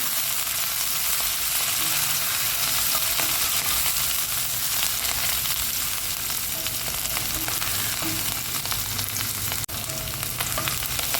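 Okra curry sizzles steadily in a hot pan while being stirred, a continuous loud frying hiss with faint scraping stir sounds throughout and no talking.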